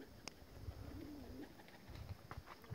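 Faint, soft coos from a flock of flying pigeons rise and fall over outdoor ambience, with a few light flutters and distant rustles.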